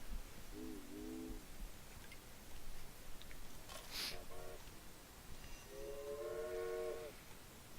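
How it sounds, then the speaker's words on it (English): Trains running on a rail network in the Railway Empire video game: two-tone locomotive horn blasts near the start and end over a quiet, constant rolling rumble, with faint chimes in between. "So now we get the trains running between Raton and Amarillo."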